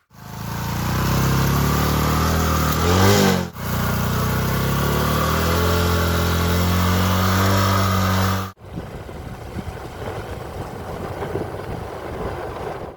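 Motorcycle ridden along a rough road through a rural village, engine droning loud and steady close by, briefly dipping once before cutting to a rougher, more broken rumble of wind and engine near the end.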